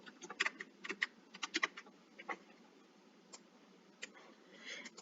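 Someone types an address on a computer keyboard. Quick, faint key clicks come in bursts and then thin out to a few scattered taps, with no speech.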